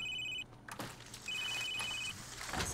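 Ringing telephone in The Sims 3, two bursts of a bright electronic double-tone trill separated by a short gap, with faint game ambience and clicks underneath.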